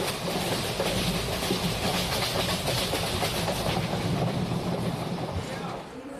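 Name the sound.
train slowly pulling into a station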